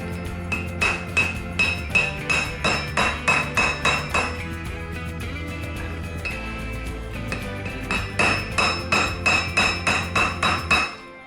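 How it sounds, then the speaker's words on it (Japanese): Repeated sharp metallic hammer blows on a Honda Super Cub body ring out in quick rhythmic bursts, pausing briefly in the middle before another run of strikes; close and loud. "しっかりとね金槌で叩いていきます。"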